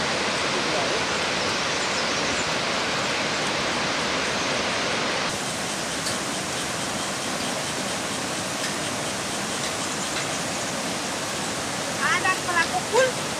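Rushing mountain stream pouring loudly beneath a bridge on the Rubi Valley trek in Nepal, a steady broadband roar of water filling the whole clip, with a few brief chirps near the end.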